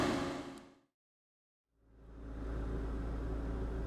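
A 2015 Scion xB engine idles smoothly with a steady low rumble, cutting out briefly to silence before returning as a continuous near hum.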